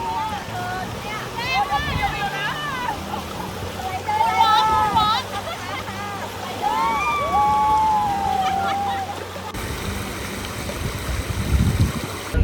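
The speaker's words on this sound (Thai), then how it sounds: "มีสายน้ำไหลลงมาแบบนี" Water pours down a waterfall at a cave, a steady wash of rushing flow beneath voices talking through most of the scene, with outdoor wind and handling noise toward the end.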